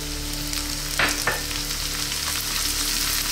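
Softening onions and still-hard potatoes fry in a pan with a steady, even sizzle and a couple of brief stirring scrapes.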